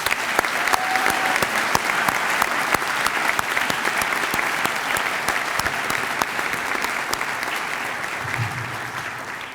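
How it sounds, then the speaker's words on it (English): Sustained applause from a school audience at a cum laude ceremony, dense rapid clapping that holds steady for several seconds and fades slightly near the end. "giving him a big round of applause"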